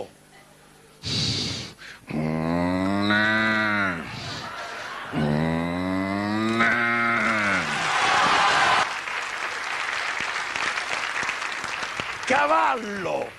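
A voice imitates a bull mooing on a televised amateur talent show, with two long, low, drawn-out bellows followed by a broad wash of audience applause and crowd noise.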